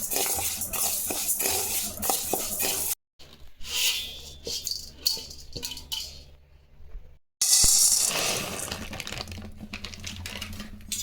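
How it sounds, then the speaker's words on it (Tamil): Red rice being dry roasted in a pan, with a dry scraping and rattling stir of grains against metal in uneven bursts, broken by two brief gaps. "சிகப்பு அரிசி இதையும் வறுத்து எடுத்துக்கலாம்"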